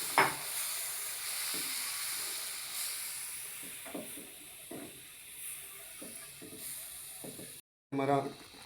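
Milk, about 250 grams, being poured and stirred into a seasoned white sauce in a pan on the stove. The sauce gives a steady soft sizzle and hiss, with faint stirring scrapes throughout and a brief louder burst near the end.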